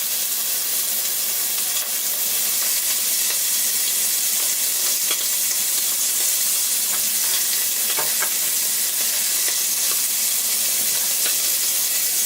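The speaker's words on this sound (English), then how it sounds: "that's a very nicely seared scallop there. And the shrimp will need another couple minutes." Scallops and shrimp sear in a hot frying pan, giving a loud, steady, close sizzle with bright hissing crackle and occasional spits and pops, continuous throughout with no talking.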